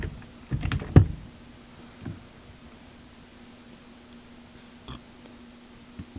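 Keys on a computer keyboard are tapped in a short burst, with a few isolated clicks following later against a quiet background.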